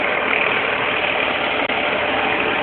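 An engine idling in a steady, dense rumble that stays constant throughout, with one very brief dip near the middle and no voices.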